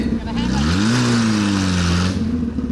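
A car's engine revs hard and steadily at close range while it tries to drive onto a car trailer with the handbrake still on, and a voice talks over it.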